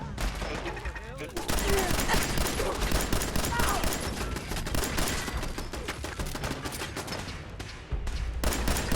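Sustained automatic gunfire fills the Battle of Bunker Hill in Fallout 4, a dense, loud barrage of overlapping shots with voices shouting faintly beneath the clatter.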